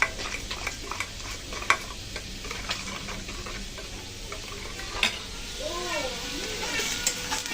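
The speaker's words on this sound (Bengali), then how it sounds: "তরকারিটা তো ভালো করে কষানো হয়ে গেল" Taro and fish masala curry being sautéed in a pan, with soft stirring scrapes and a low sizzle running steadily, broken by a few sharp utensil clinks.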